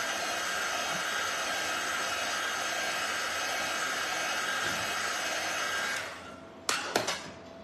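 A hair dryer blows steadily and loudly on a decorative gnome for about six seconds, then switches off, followed by a few light knocks and handling sounds.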